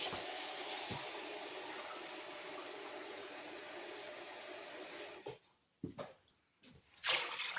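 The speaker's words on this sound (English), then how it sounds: "Now we need 2 cups of water." Water pours from a tap into a cooking pot for rice, a steady broadband rush for about five seconds, then breaking into short separate gushes and pauses as the flow is switched on and off.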